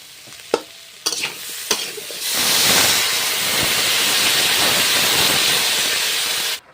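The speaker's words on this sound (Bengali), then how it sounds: "সবজিটা আমার ভালোভাবে কষাই করা হয়ে গিয়েছে এবার জল ঢেলে দেবো" Water poured into sautéed vegetables in a hot pan: a few utensil knocks, then a sudden loud hissing burst of steam and sizzle that holds steady for several seconds before cutting off.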